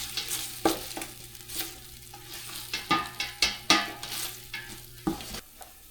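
Meatball pieces are stirred into tomato paste in a hot pan, with soft sizzling under a run of repeated scraping spoon strokes in an uneven rhythm, close by.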